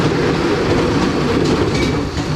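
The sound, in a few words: carnival ride train running on tracks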